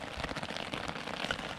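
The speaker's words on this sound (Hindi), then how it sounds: "बारिश हो रही लगातार काफ़ी तेज यार आज" Heavy rain drums on a camping tent during a storm, a dense patter of drops close overhead, fairly faint and continuous with no voices.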